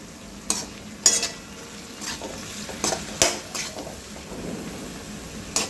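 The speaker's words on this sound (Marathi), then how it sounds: "आता हे दोन तीन मिनटं टमाटर छान शिजू द्यायचे आहे" Chopped tomatoes cook in a pan for an aloo palak sabji, a soft low sizzle beneath repeated metal spoon scrapes and clinks against the pan at an uneven rhythm, close and moderately loud.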